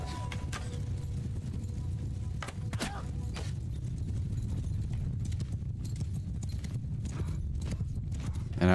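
Horse hooves clop steadily in a Mount & Blade II: Bannerlord battle, a quiet, dense rhythmic patter with a few sharp clicks and impacts scattered on top, and no talk.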